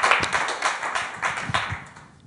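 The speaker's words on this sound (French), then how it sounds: "un applaudissement pour Anaïs Albert et son texte" A small audience gives a short burst of clapping at a French idea-sharing event after an author reads her text. Close, fairly dense claps that thin out toward the end.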